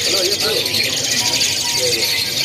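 Young Javan pied starlings still being hand-fed call from cages at a bird kiosk, with overlapping chirps and squeaky calls over a busy, noisy background.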